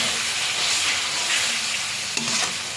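Chicken masala sautéing in oil with chilli, cumin and coriander powder and salt, a dense continuous sizzle with a spatula scraping through it and one sharp clack near the end.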